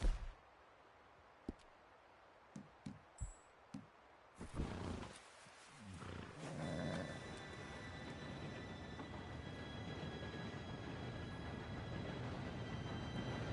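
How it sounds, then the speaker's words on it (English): A train approaches in Red Dead Redemption 2: a few sharp clicks over quiet, then a broad rumble that swells and builds into a steady, loud roar with a high sustained tone riding on top. "Train should be here any minute now"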